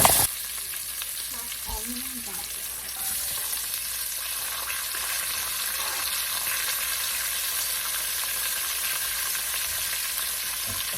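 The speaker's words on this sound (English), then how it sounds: "Cooking that chorizo first." Chorizo frying in a pan for a Catalan-style seafood soup, a loud, steady, close sizzle that holds evenly throughout after a brief knock at the start.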